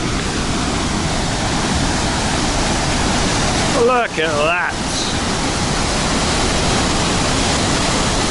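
A waterfall on Lake Phewa, Nepal, swollen after a night of heavy rain, roars loud and close as a constant wash of spray; a voice exclaims briefly over the torrent partway through.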